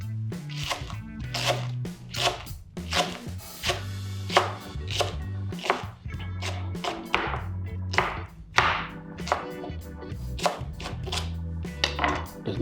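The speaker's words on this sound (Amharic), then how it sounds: "በተማሳይ መልኩ ደግሞ እንደዚህ አባሪ ሽንኩርት ይከተፋል።" A knife chops onion on a board at home, a steady run of crisp close taps in quick bursts with short pauses between, and no talking.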